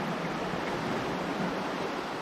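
Steady, dense rush of falling water at a waterfall in Muddy Creek Gorge, Pennsylvania, a constant broadband roar heard close with no other sounds.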